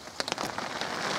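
Rain patters steadily and close by on surfaces beside a river where giant river prawns are being fished. It is a dense, even hiss with a few sharper drops and no talking.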